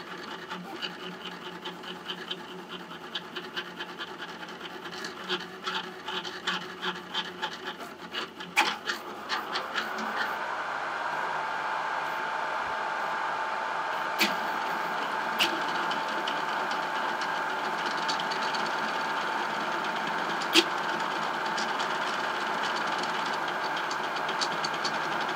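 A Celeritas 3D printer runs a 600 mm/s, 35K acceleration torture test, its stepper motors buzzing and chattering in quick bursts before settling into a steady, continuous high whir, with occasional sharp clicks.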